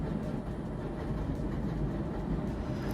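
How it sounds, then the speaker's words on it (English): A train rumbles past at close range, a steady low roar with faint clattering carrying through all three seconds, no voices over it. "there's the train"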